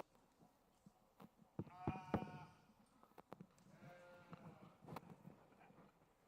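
Sheep at a livestock show give two drawn-out bleats, one after the other, over faint barn clatter and a quiet indoor background.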